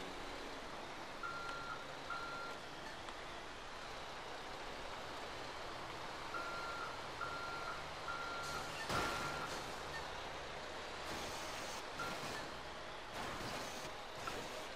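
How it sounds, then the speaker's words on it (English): Trucks back up at a busy port in Grand Theft Auto 5, their repeated reversing beeps sounding in short spaced series over a constant engine and harbor rumble, with a few sharp air-brake hisses near the end. "If I could get these trucks out of my way"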